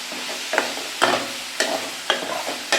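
Mint leaves sizzle in a hot pan while being stirred, with about five distinct scraping strokes at a steady rhythm over a constant frying hiss.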